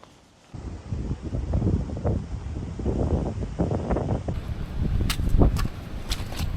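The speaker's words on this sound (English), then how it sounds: "My God, the wind's really picked up now." Strong gusting wind on a Lake District hillside in wet weather, buffeting the microphone in loud, uneven surges after a quiet start, with no talk.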